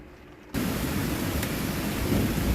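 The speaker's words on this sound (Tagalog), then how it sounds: "Sugang dalugdog guys. Marami sa dalugdog." Thunder rolls in suddenly after a quiet half second, becoming a loud, broad, sustained rumble that continues steadily to the end with no voices.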